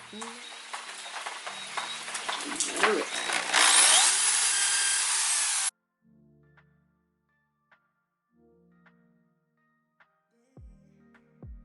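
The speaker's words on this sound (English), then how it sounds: "so I got my holes drilled" A power drill bores holes into distressed wooden hanging shelves, giving a loud, continuous whirring grind for several seconds that then cuts off, followed by a few faint clicks and light handling noises.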